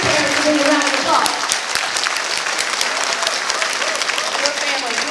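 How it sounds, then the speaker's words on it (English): An elementary all-county chorus audience gives loud, sustained applause for the parents, a dense, close wash of clapping that continues evenly for several seconds, with voices faintly mixed in. "Students, give your parents a big round of applause."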